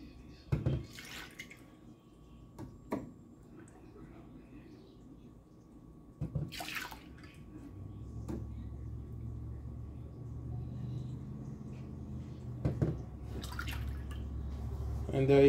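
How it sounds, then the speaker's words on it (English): Whole milk poured from a half-cup measure into a bowl in a home kitchen, several short splashy pours separated by pauses, with a low background rumble building toward the end. "And this is a half a cup, so I gotta pour it 4 times."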